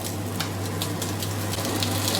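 Slices of luncheon meat pan-frying in a pan, a continuous close sizzle with soft crackling pops over a low steady hum.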